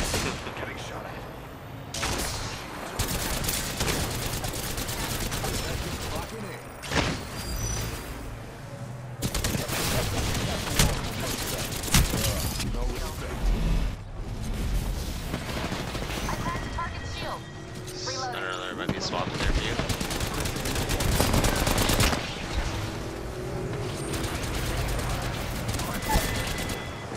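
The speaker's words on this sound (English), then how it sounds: "Getting shot at." Gunfire in the video game Apex Legends, with dense bursts of shots and fusillades coming in repeated volleys over nearly half a minute, loud and close, with short gaps between exchanges.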